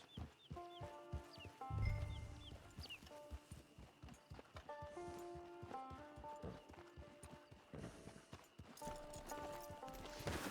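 Rhythmic hoof clip-clops from a horse walking in Red Dead Redemption 2 Online, with clucking chickens and a brief whinny in the background camp ambience.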